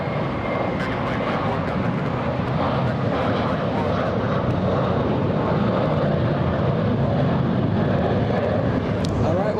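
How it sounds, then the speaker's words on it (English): United Airlines jet flying in to land at LAX from San Jose del Cabo, a loud continuous engine roar and rumble that holds steady throughout. "We have United Airlines 2605 flying in from San Jose del Cabo"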